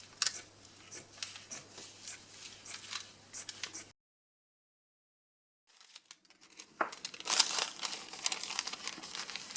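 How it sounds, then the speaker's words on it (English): Scissors snip through paper in quick, crisp cuts with light crinkling, stopping into a few seconds of silence before the snipping resumes, close and fairly quiet. "go snippety snip."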